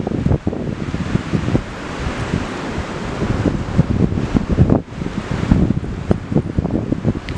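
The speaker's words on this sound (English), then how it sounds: "It's very windy." Steady wind gusting and buffeting outdoors, a continuous broadband roar that swells and dips throughout with no voices.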